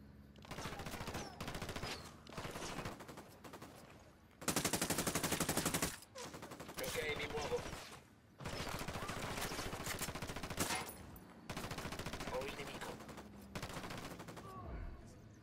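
Bursts of rapid gunfire from the video game Ghost Recon Wildlands come in several separate volleys, loud and close, with short gaps of quieter sound between them.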